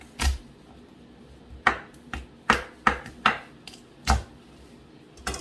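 Sharp, close thuds come as the flat side of a knife smashes food on a cutting board in a kitchen while cooking venison. About eight irregular whacks are separated by quiet pauses, with no talking.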